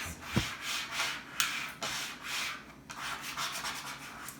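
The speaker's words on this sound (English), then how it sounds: "then I go back and I scrape it real good" A scraper rubs firmly across clear transfer tape to press black vinyl onto a Christmas door hanger, giving repeated close, rasping back-and-forth strokes at a steady rhythm, without talk.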